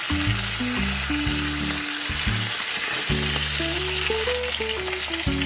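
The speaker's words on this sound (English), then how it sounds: "Once the steaks are in the pan, turn the pan up on high." Ribeye steaks sear over high heat in a cast iron pan with a loud, constant close sizzle. Tonal background music plays along with it.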